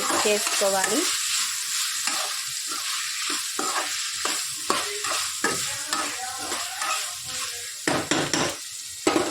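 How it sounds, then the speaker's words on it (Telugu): Cut potatoes being stirred into a curry in a pan: continuous close scraping and stirring strokes over a bright sizzle, with rhythmic spoon-on-pan clatter and a few sharper knocks near the end, no talking. "ఇప్పుడు మనం కట్ చేసిన పొటాటోస్ వేసుకోవాలి. మిక్స్ చేసుకోవాలి."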